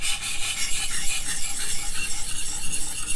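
ZT Hinderer Slicer 0562 knife edge drawn across a sharpening stone in quick cleanup strokes, a steady rhythmic rasping scrape, close and moderately loud with no talk.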